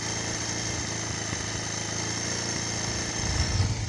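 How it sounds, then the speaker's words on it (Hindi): A 220cc motorcycle engine runs steadily after its mixture screw has been opened to three turns, with a continuous near idle drone that rises slightly in loudness toward the end. "आपको इंजन का साउंड के ऊपर ध्यान देना है, इसका मेन साउंड का खेल है।"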